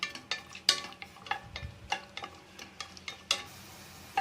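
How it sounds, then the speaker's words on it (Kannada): Sliced onions frying in hot oil for home-style mutton biryani, a steady close sizzle broken by sharp stirring clinks and scrapes of a spoon against the pan. "ಈರುಳ್ಳಿ ಹಾಕೊಂಡು ಚೆನ್ನಾಗಿ ಫ್ರೈ ಮಾಡ್ಕೊಳ್ಳಿ"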